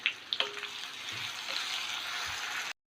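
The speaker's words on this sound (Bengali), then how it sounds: "পেঁয়াজগুলো একটু ভালো করে ভেজে নেব" Sliced onions with salt fry in a pan with a soft, steady sizzle, opening with a few light clinks and stirring scrapes before settling into continuous faint crackle; no speech.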